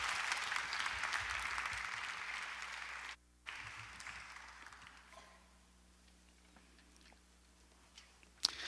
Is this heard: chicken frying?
no